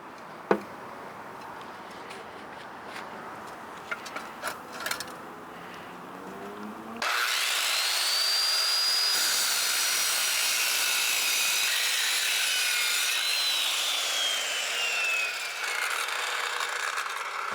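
A hand saw is pushed freehand through a block while building a window flower box, first with sparse ticking scrapes, then a loud continuous rasping grind that carries through the second half of the clip, close and unaccompanied by speech.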